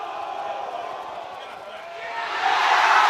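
Rugby crowd at the Rec cheering as Bath's penalty kick goes over to take the lead, a broad roar of voices that swells louder toward the end.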